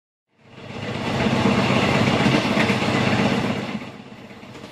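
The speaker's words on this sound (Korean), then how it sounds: "다리 위 칙칙폭폭 달려오는 기차 소리가 들려오자" A train rumbles over a bridge with a dense rolling roar and clatter, swelling in quickly, holding loud and close for a few seconds, then easing off as it passes.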